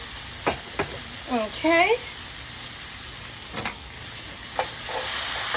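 Red onion frying in a pan gives a continuous sizzle under a few utensil taps, while someone speaks briefly over it.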